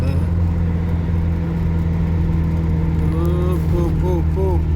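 A car on a highway between Kapchagay and Shymkent, its engine droning loud and steady with road noise throughout, while people talk inside over it.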